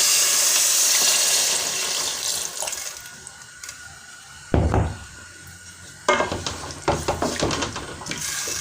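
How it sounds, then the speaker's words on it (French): Water poured from a container onto spiced meat pieces in a cooking pot for Central African Nguiriki, a steady splashing pour at first, then softer, followed by a few clattering knocks of pot or utensil. "Je vais ajouter une portion d'eau."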